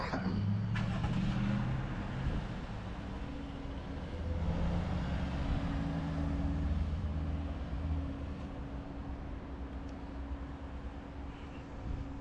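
A car driving in Metropolis, Illinois, heard as a steady low engine and road rumble that stays fairly even throughout, with no one talking.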